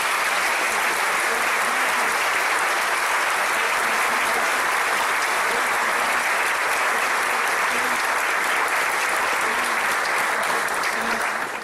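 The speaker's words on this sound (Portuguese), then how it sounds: "E as palmas glorificam a Deus." A church congregation claps together at a communion service, a dense and steady wash of applause that fills the room evenly from start to finish with no voices over it.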